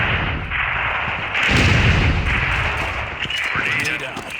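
A grenade blast in the shooter game Critical Strike, a loud booming burst with a rumbling tail, followed by further muffled thuds and crackles in a busy match mix.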